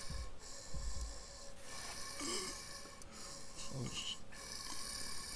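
Breathing of a monster in the horror game Lights Off, raspy snorting, snore-like breaths repeating steadily through the clip over a dense, noisy game soundtrack.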